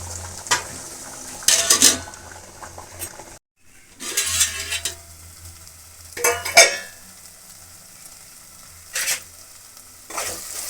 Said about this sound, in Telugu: ఈ విధంగా ఉడుకుతుంది ఫ్రెండ్స్.